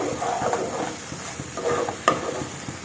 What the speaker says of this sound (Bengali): এভাবেই কিন্তু নাড়াতে থাকতে হবে মশলাটাকে কোনো মতেই বসতে দেওয়া যাবে না